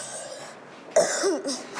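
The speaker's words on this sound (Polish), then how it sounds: "chłopiec ma gwałtowny, ostry kaszel" A boy coughs sharply and violently, one harsh burst followed by a rougher throat-clearing cough close to the microphone, over quiet hospital room tone.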